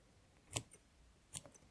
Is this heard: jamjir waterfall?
no